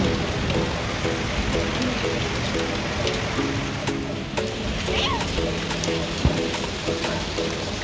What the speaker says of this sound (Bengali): ভালোই বৃষ্টি শুরু হয়েছে।